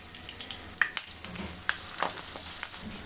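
Samosas deep-fry in hot oil with a steady, close sizzle broken by sharp crackles and pops, with no voices.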